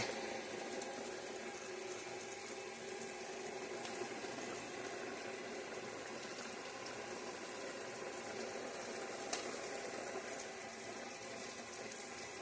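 Three cups of water boiling in a pot for homemade Hamburger Helper, a steady rolling hiss and bubble that holds evenly throughout with no talking.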